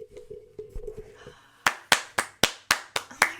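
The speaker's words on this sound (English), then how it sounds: "Round of applause." A few people clap in a small room, with about eight sharp, separate claps that are close and distinct, after some quiet tapping and faint background sounds.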